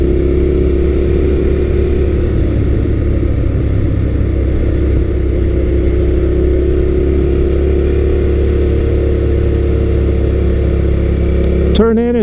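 Suzuki SV650 second-generation (2003-2008) middleweight naked motorcycle, its V-twin engine droning steadily and loud while riding through twisty roads, with a brief rising rev near the end.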